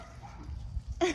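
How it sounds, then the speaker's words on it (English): Puppies giving a brief yip and whimper, a short faint burst at the end after low background rumble, close by. "Saving the puppies."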